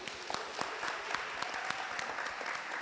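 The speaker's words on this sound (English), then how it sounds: "a round of applause for Alicia" A conference audience at a Microsoft Day event claps for a panelist on stage, a quiet, fairly sparse patter of hands with distinct individual claps standing out, heard at a distance.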